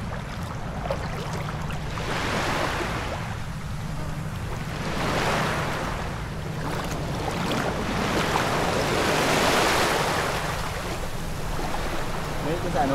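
Sea waves wash onto a beach in the Philippines, a steady surf roar that swells and ebbs in slow surges, with wind buffeting the microphone throughout.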